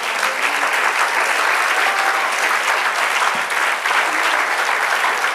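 A church congregation applauding during a Spanish-language service, steady dense clapping from many hands that fills the room for several seconds with no break, fairly close.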